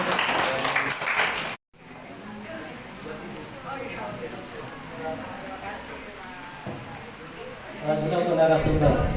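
An audience claps at a social teaching session, a moderate, fairly steady patter that follows a brief gap, with a voice rising near the end over the clapping.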